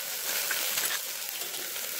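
Onions just added to hot oil with fennel seeds, a bright steady hiss and crackle close by, brief and even, with no voices.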